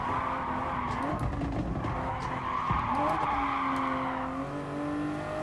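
A car drifting in Gran Turismo Sport, its engine droning steadily while the tires skid and squeal continuously through the slide, loud and close with no voices.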